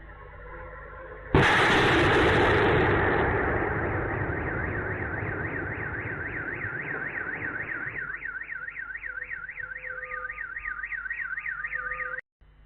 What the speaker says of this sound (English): Lots of car alarms going off.